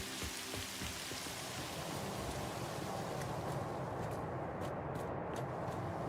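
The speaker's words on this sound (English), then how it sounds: "It's raining." Rain pours in the game Satisfactory after Update 1.2, a broad steady hiss of falling drops with a few low thuds at the start, sustained at an even level.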